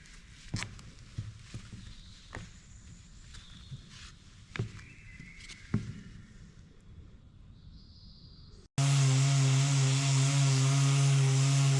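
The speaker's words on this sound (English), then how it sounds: "I'm drilling over 20 pretty big holes in our deck on each side." A power drill bores large holes through a boat deck in a shed, loud steady whine for the final few seconds after scattered knocks, thumps and footsteps.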